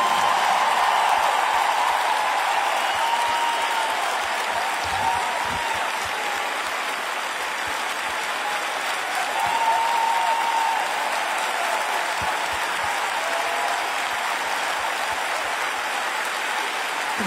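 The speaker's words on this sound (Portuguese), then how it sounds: "Um grande enorme aplauso para o meu amigo" A concert crowd applauds the guest singer at a 30-year anniversary show, a long, even roar of clapping that sounds like heavy rain and continues unbroken.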